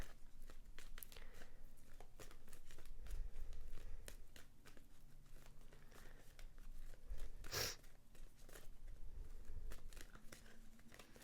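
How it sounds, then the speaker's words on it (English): A stiff deck of tarot cards is shuffled by hand, giving close, irregular riffling and papery crackles with sharp snaps, including one loud slap near the middle. "Ugh, this deck is so difficult to shuffle."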